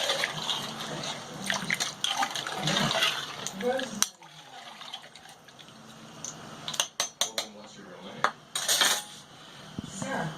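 Ingredients for a Peruvian-style pot roast are stirred in a pot. Scraping and clinking of a utensil against metal comes in bursts, with a softer watery stretch in the middle and a voice speaking at times.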